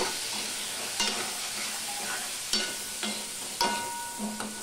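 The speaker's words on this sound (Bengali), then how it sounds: "সম্পূর্ণটা মিশিয়ে নিয়ে ঢাকা দিয়ে দিয়ে ভাজতে থাকবো।" Spiced drumstick curry with potatoes, turmeric and salt is stirred in a pan, with a soft steady sizzle broken by several sharp scraping strokes of the spoon at irregular intervals, no voices.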